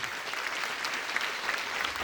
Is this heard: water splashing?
no